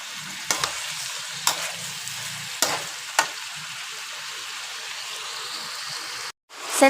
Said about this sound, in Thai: ก่อนที่เราจะผัดหน่อไม้นะคะ